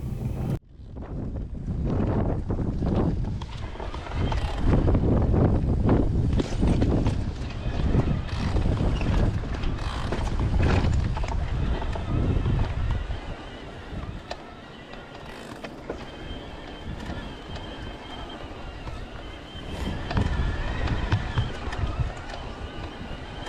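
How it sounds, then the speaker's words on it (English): Strong coastal wind on the John Muir Way between North Berwick and Dunbar buffets the microphone in loud, roaring gusts, easing somewhat partway through but continuing steadily to the end. "just a wee bit on the windy side, which you can probably hear in the background"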